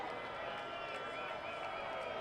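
Baseball crowd cheering during a Coast at Raptors game, a steady, broad roar of many voices heard from a distance, continuous and fairly faint, with a commentator's voice over it.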